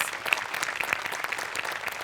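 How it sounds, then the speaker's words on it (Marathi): A studio audience at a Marathi comedy show claps, a dense, lively patter of many hands at moderate distance, steady throughout with a few sharper individual claps standing out. "प्रत्यक्ष नसलेल्या माणसांसाठी पण एकदा टाळ्या वाजल्या पाहिजे"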